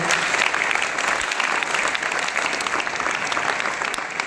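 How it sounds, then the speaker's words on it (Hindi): Loud, sustained applause from a school audience at a prize ceremony for winning students, a dense continuous wash of clapping with no break. "जोरदार तालियां बजाएं उनको पुरस्कार दें।"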